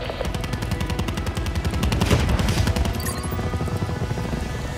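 Rapid automatic gunfire in the PC shooter game Black Ops 4, loud and dense, with continuous bursts of shots layered over rumbling game sounds for several seconds and no talking.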